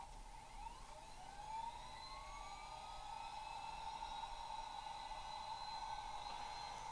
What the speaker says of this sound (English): function 1 is the gas turbine drive, which will start up